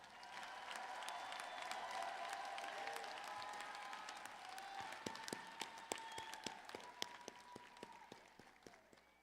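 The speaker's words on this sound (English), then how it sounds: "let's give an applause to all of those people who got you here today" A graduate commencement audience at UNLV claps steadily for several seconds, a broad sustained wash of applause with scattered sharper individual claps standing out near the end, heard at a moderate distance in a large hall.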